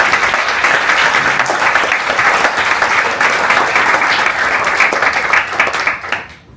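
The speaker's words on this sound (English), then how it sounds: "We'll give you another round of applause." A meetup audience applauds after a talk on prototyping, a dense, loud burst of clapping that holds steady for about six seconds and then fades out.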